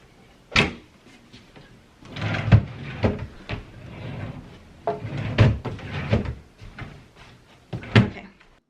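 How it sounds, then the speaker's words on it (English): Wooden dresser drawers open and close again and again while clothes are put away in a house. Soft thuds and sliding knocks come close by in an irregular rhythm, with quiet rustling between them. "I do force myself to put away any of the clothes that go in the drawers"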